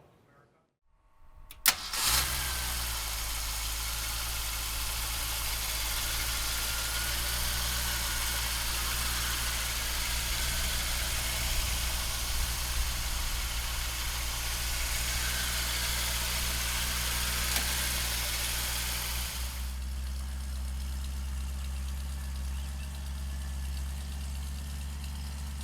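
A 1969 Ford Mustang with a 428 engine cranks and catches after a brief silence, then settles into a loud, steady, rumbling idle for about twenty seconds before the tone shifts lower and quieter near the end.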